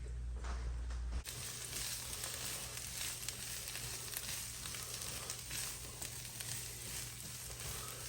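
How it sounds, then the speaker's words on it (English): Vegetables hit a ripping-hot oiled pan and a loud, dense sizzle bursts in at once, then holds as a continuous close crackling hiss with faint stirring underneath. "once your pan's ripping hot, you want to add your vegetables into the pan"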